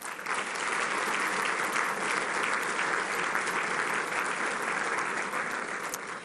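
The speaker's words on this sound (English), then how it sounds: "please join me in giving them a round of applause" A large audience at a Fresno State of the City address applauds police officers, with sustained, even clapping lasting several seconds before easing slightly at the end.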